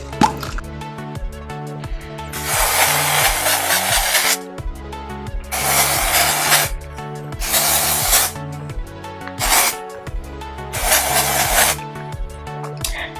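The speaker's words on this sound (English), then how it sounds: "I'm going to be using the TRESemmé Instant Refresh Dry Shampoo." TRESemmé Instant Refresh dry shampoo sprays onto hair in five distinct hissing bursts of a couple of seconds each, close up, with quiet handling sounds between them.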